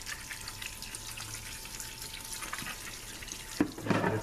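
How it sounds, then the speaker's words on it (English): A valve body part from a 722.6/NAG1 transmission is rinsed under a running tap. The stream hisses steadily and quietly, then splashes louder near the end, with no talking. "give that a rinse"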